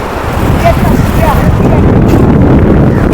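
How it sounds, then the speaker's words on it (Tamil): Cold coastal wind buffets the microphone at a beach beside a fish market, a steady broadband rumble running throughout with a faint voice underneath. "குளிராக இருக்கும் கடற்கரை காற்று வேறு அடிக்கும்"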